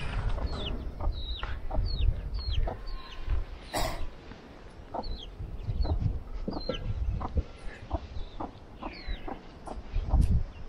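Chickens cluck and chirp in scattered short bursts over several seconds, fairly close, in a small village yard in remote Nepal, with a low outdoor rumble underneath.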